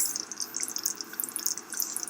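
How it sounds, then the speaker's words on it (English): Food bubbles in a pot on the stove, giving soft, scattered little pops and crackles over a faint steady background, heard fairly quietly. "Bubbling on the stove."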